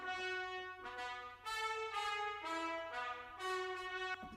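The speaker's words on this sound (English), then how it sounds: "So for example, the Cinebrass trumpet ensemble sounds like this." Cinebrass trumpet ensemble with a reverb send, playing sustained harmonized chords that change every half second or so, with a wet, roomy tail between phrases; loud and alone, no voices.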